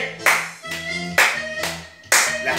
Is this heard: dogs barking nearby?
no